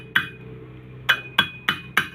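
An engine valve is tapped while being rotated and hand-ground into its seat: five sharp, ringing metallic taps, close and clear, one on its own followed by a quicker run of four.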